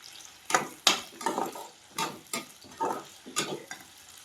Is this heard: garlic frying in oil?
yes